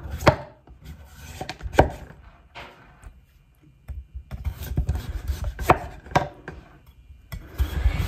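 A knife shaves the peel off a butternut squash in a series of close, scraping strokes with crisp cuts and short pauses between them, rough and woody in texture, with no talking.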